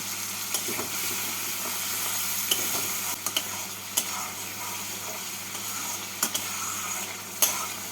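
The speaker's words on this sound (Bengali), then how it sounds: "টমেটো দিয়ে মশলাটাকে কষিয়ে নেব" Spice paste with chopped tomato frying in a pan for a Bengali radish and coconut ghonto, giving a steady close sizzle with a few sharp scrapes of stirring, and no voices.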